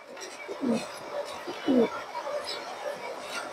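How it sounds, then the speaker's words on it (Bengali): A female pigeon gives a couple of low, soft coos against a quiet room background, with someone talking nearby. "এটা মাদি কবুতর"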